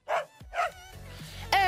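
A dog barks a couple of times in a TV studio during a morning show pet segment featuring pugs, short yappy barks close by with studio murmur around them.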